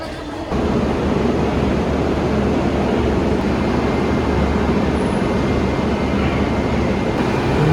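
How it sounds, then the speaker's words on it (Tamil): Brindavan Super Fast Express 12640 running on the KSR Bengaluru to Walaja Road line: a steady, loud broadband rumble of the moving train that holds evenly from about half a second to the end, with no voices. "இன்றைக்கி நம்ம ட்ராவல் பண்ண போகிற train number 12640 Brindavan super fast express."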